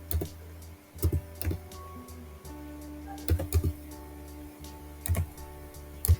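Bursts of typing on a computer keyboard, short clusters of close, sharp key clicks separated by pauses over a faint steady hum.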